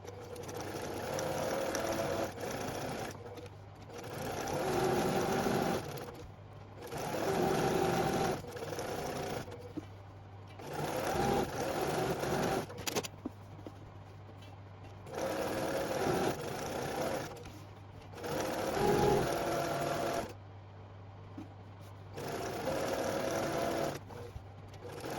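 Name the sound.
sewing machine stitching a zipper pouch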